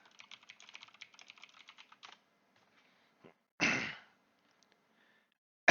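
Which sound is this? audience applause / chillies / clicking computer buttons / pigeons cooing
clicking computer buttons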